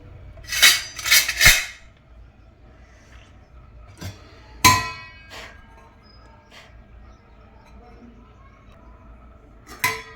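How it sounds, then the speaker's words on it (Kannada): A metal vessel lid is set over dough mixed with baking soda, and pots clatter as it goes on: a quick cluster of three bright clanks, then scattered single knocks and a last clink near the end, close and fairly loud. "ಇವಾಗ ಒಂದು ಪಾತ್ರೆ ಮುಚ್ಚಿಟ್ಬಿಡ್ತೀನಿ ಫ್ರೆಂಡ್ಸ್ ಇದಕ್ಕೆ"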